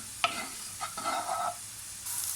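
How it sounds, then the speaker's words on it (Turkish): Peppers sauté in butter in a pan, with soft sizzling and a few brief stirring scrapes, fairly quiet and close. "Tavam ocağımın üstüne alıp birazcık tereyağı ilave ediyorum. Biberlerimi de içine ilave edip sotilemeye bırakıyorum."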